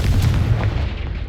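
A Confringo fire spell goes off in Hogwarts Legacy, a deep, rumbling blast that stays loud and boomy for its whole short span with no talk over it.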